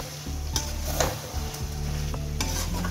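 Chicken fries in a pan at home with a dense, steady sizzle and a spatula scraping and stirring in occasional bursts, close up and continuous, with no talking.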